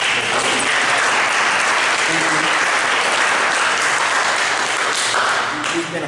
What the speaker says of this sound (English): We ought to give Anthony a big round of applause